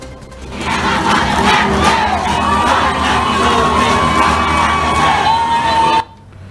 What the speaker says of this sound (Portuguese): Uma multidão fez uma festa para receber o Thiago Nunes.